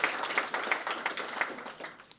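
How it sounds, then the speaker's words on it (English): Round of applause from an audience at a leadership event, moderate clapping sustained for a couple of seconds, no voices over it. "if we can give them another round of applause"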